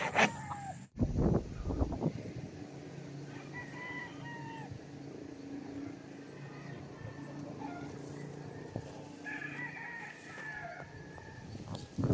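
Roosters crow on a farm, several calls rising over a steady background of rustling and distant activity, with a sharp knock near the start and no speech.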